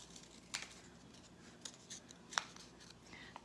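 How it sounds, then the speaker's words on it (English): Scissors snip through folded paper to cut out a circle for a first-grade poppy craft, a few quiet, crisp close-up clicks spaced irregularly over faint room hush, with no talk. "So I'm gonna fold it in half, cut out my circle,"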